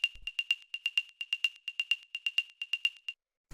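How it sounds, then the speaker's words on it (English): A small clave-like percussion sample tuned to F clicks out a quick, slightly syncopated pattern of short, pitched wooden knocks, light and dry, about twenty hits with nothing else playing. "it's this little like clave sort of sound"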